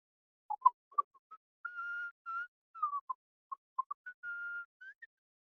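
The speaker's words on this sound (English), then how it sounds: "I probably shouldn't even be whistling." Someone whistles a wandering, broken melody of short chirps and longer held notes, clear and fairly quiet, with brief pauses between phrases and no talking.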